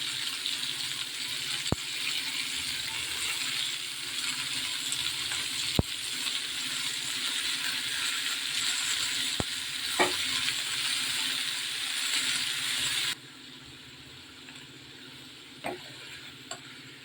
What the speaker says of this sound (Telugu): ఇప్పుడు కొత్తిమీర యాడ్ చేసుకోవాలి.